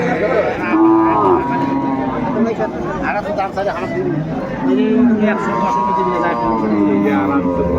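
At a cattle market at Ambari haat, Sahiwal, Sindhi and local milk cows with calves moo repeatedly, long drawn calls standing out over a busy crowd and close conversation.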